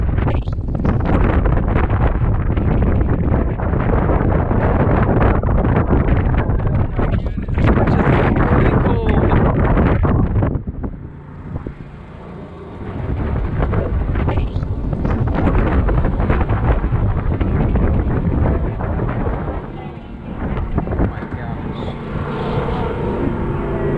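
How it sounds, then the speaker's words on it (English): Force 10 storm winds roar across a boat at anchor, a loud, constant buffeting rush against the microphone that briefly eases twice before surging back. "The wind just picked up like crazy."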